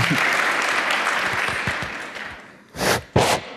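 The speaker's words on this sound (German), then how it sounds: "Also einmal Applaus bitte." A conference crowd at a talk at 31c3 claps steadily, fading gradually, followed by two short, sharp bursts of louder clapping near the microphone.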